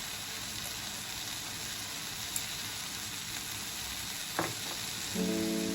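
Anchovy dry fish frying with masala in a pan, a soft steady sizzle close by with a couple of brief stirring scrapes and a faint tonal hum near the end, no talking.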